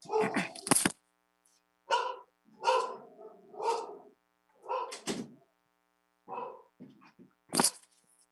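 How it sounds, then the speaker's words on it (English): Dogs barking in the background of a home during an online city council meeting, several separate sharp barks spread across the stretch, fairly close and clear, with brief gaps of near silence between them. "apologize for my barking dogs in the background."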